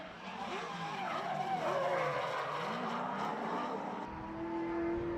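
A Gymkhana champion's race car screams past on a track at around 126 mph, a loud sustained engine roar with tire noise that swells and fades, then a steady high whine near the end.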